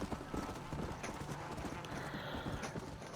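Horse hooves clip-clopping at a steady trot in the Western video game Red Dead Redemption, a rapid rhythmic patter with a brief whinny, heard close and moderately loud over game ambience.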